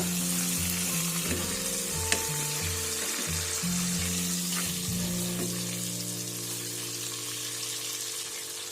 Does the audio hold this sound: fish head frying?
yes